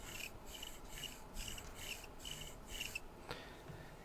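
Stiff Smith & Wesson Extreme Ops folding knife with nylon washers opening slowly, giving a faint, close, repeated scraping rub in even pulses, then a small click near the end.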